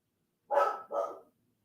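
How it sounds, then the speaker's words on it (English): A dog gives two quick, sharp barks close by, back to back, with silence before and after. "He thinks he has to protect me, so he barks out the window the whole time."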